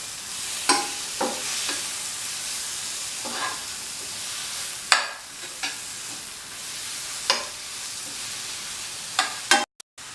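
A spoon scrapes and stirs chili powder masala in a frying pan, about ten separate scraping strokes at uneven intervals over a soft continuous sizzle, close and fairly quiet.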